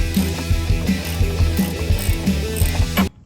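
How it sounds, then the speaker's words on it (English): Hand ratchet tightening castle nuts on the steering linkage of an OBS Ford F250 7.3, rapid close clicking pawl strokes in bursts, then stopping abruptly. "tighten down the castle nuts."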